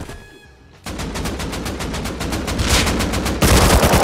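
Sustained automatic AK rifle fire in the video game Rust: rapid, evenly spaced bursts of shots, loud and close, growing heavier toward the end with overlapping fire.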